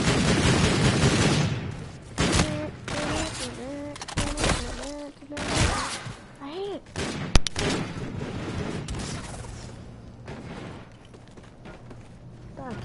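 Video game gunfire from Call of Duty, with pistol shots and bursts popping in a busy mix over the first several seconds, joined by speech and tonal game sounds, then fading to quieter background.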